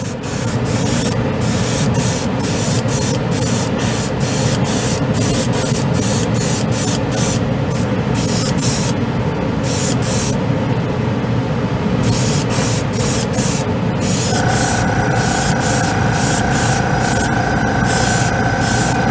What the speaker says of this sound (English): With the Patriot, you go a little bit lower on the PSI. It's a more efficient running airbrush.